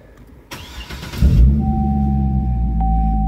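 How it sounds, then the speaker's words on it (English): A car starts up with a clamp-on Hooker cat-back exhaust made for a C6 Corvette: a brief starter crank, then the engine catches with a loud burst and settles into a deep, steady idle, close by. "Starting the vehicle up."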